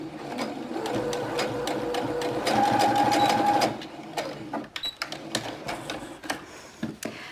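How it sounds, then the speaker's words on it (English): A sewing machine stitches fabric in a steady, close, rapid mechanical whir for several seconds, then stops, followed by scattered handling clicks and taps. "So now we start sewing"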